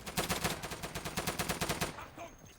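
Gunfire in a 1940s-era shooter video game, a fast burst of automatic shots pulsing rhythmically for about two seconds before it cuts off and leaves a quiet tail.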